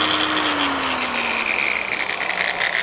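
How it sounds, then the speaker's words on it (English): An angle grinder running on a low speed setting of 2 during ironwork, a steady continuous whine with a slowly falling tone, close and constant throughout. "So again, angle grinder set on low."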